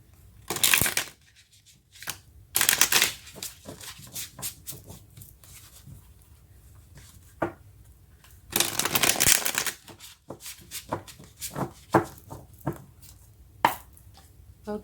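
Tarot cards shuffled by hand, close and crisp, in several quick riffling bursts separated by softer handling and tapping of the deck, with no talking.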